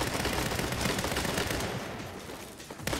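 Dense automatic gunfire in the Saints Row reboot, a loud continuous rattle of rapid shots filling the whole moment, slightly easing toward the end.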